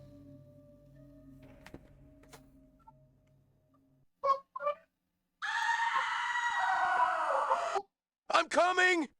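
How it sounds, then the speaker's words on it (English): A woman's scream from the horror video game Overblood rings out as a sustained, loud shriek, followed by shorter wavering cries. Quiet ambient game sounds precede it, with a couple of brief voice bursts in between. "There's like a lady scream."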